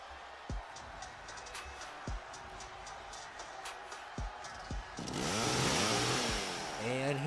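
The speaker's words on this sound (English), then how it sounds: "she's got a chainsaw" A chainsaw roars in the WWE 2K23 wrestling video game, rising loud and steady in the last seconds after quieter arena noise with a few sharp thuds.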